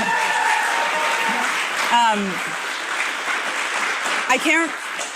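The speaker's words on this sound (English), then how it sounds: "Round of applause." A studio audience at a live talk show gives a short round of applause, a broad hiss of clapping that runs under a person speaking and thanking the crowd.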